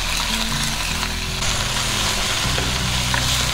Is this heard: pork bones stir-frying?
yes